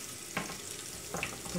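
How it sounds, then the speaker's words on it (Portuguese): Garlic frying in a pan to golden before searing beef for picadinho: a low steady sizzle broken by a few short spoon scrapes, with a louder scrape at the end. "Aqui eu vou pôr o alho pra dourar"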